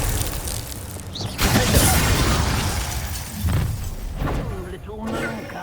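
The Incendio fire spell in Hogwarts Legacy bursts out in a loud whooshing blast of crackling flame, swelling then fading, followed by further fiery bursts, with voices in the mix.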